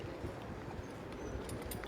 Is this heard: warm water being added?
no